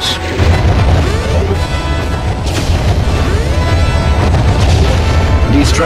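A transfer device blows up in StarFox Assault, giving a loud sustained rumble of booms and blasts layered over constant battle noise and engine whine.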